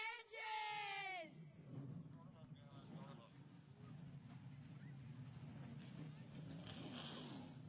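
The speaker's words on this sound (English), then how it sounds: "There is nothing better than the sound of the NASCAR Whelen Modified Tour coming to life" Several NASCAR Whelen Modified Tour race cars fire up at the 2022 Clash at Claremont 150, a low, steady engine rumble building after a short stretch of loud, tonal voice-like sound at the start, then holding under crowd and wind noise.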